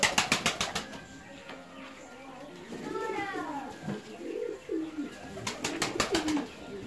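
Fancy ornamental pigeons, Indian fantail youngsters, coo softly nearby amid flutters and wingbeats, with bursts of flapping at the start and end. Voices talk over the birds.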